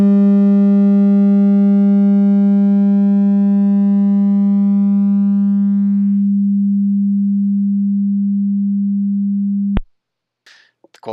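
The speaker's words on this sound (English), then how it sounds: "we can barely hear the audio signal die out" A pure, steady electronic tone from a damped driven oscillator rings out alone with faint overtones, holding a constant pitch and slowly fading over about ten seconds before cutting off abruptly.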